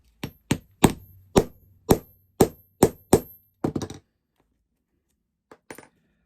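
Hand tools punching a hole at one end of a faux leather strip for fitting a spring clip metal snap: eight sharp, evenly spaced hammer knocks, close and loud, then silence and one faint tap.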